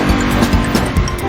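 A car swerves along city streets with its tires squealing, a loud, continuous engine roar and rubber screech lasting about a second.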